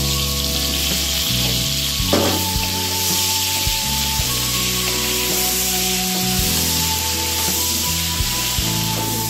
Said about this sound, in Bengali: এই যে মাংসের জন্য আমি এই আলুগুলো ভেজে নিচ্ছি